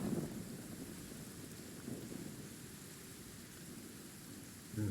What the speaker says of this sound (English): Be nice if the rain could stop.